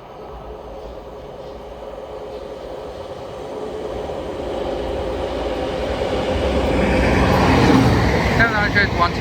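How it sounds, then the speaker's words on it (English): A passenger train pulls into South Croydon station on the Brighton Main Line, its rumble and rolling wheel noise building steadily louder as it approaches, with a faint squeal near the end. "And here comes the Coulsdon to Peterborough service."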